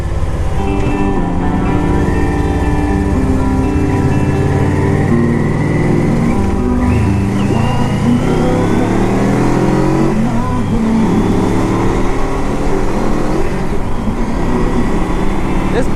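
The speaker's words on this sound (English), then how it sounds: "This bike really gets up and goes." A 2000 Yamaha Venture LE 1300 touring motorcycle being ridden, its engine droning and rising through the gears at close range, steady and loud for the whole stretch with a stereo faintly audible underneath.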